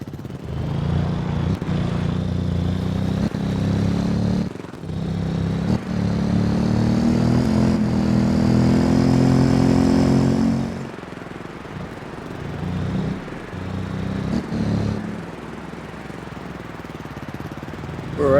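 Motorcycle engine running steadily at close range while riding, a continuous loud drone with shifting pitch, brief dips and revs, and no talk over it.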